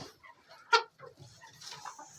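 Chickens clucking close by in a coop, a few short clucks and one sharper squawk breaking a quiet background.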